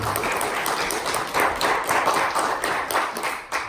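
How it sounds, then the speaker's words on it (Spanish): A church congregation applauding during worship, a steady dense patter of clapping hands filling the room for several seconds with rhythmic surges. "Démosle un fuerte aplauso al Señor."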